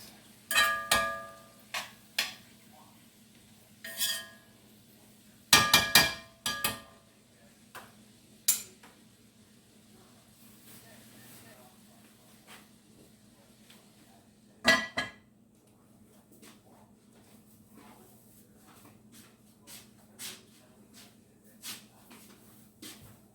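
A spatula works through cabbage frying in a pan, giving scattered metallic clinks and scrapes in irregular clusters over a low steady kitchen hum, fairly quiet with long gaps between strokes.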